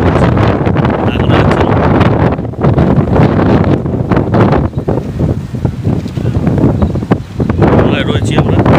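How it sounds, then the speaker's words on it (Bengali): Strong wind buffets a boat on a river near Digha, roaring loudly and continuously in gusts that swell and dip, with faint voices now and then. "বিশাল পরিমাণে হাওয়া চলছে।"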